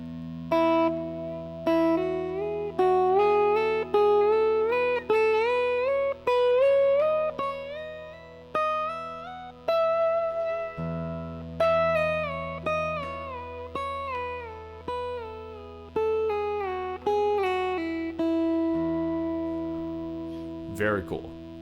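Guitar plays a scale exercise in a triplet pattern, with clean plucked notes stepping up and down in an even, steady rhythm, close and clear.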